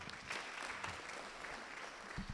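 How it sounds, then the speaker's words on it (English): An audience at a savings cooperative member education day clapping for a member, steady close applause that is quiet overall, with no speech. "Let's clap for Albert."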